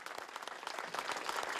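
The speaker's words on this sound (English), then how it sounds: "There were no boos Friday, just applause for the winningest coach in Utah State history." A crowd applauds coach Stew Morrill, the winningest coach in Utah State history, with steady dense clapping that runs evenly through the brief moment.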